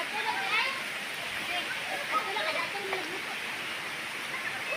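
Waterfall at Princess Falls roaring as a steady, broad rush of falling water that continues without a break.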